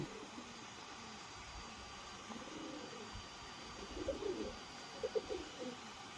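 A pair of Royal Teddy pigeons, an adult male and a younger female, gives faint, low coos near the end over a quiet, hissy outdoor background.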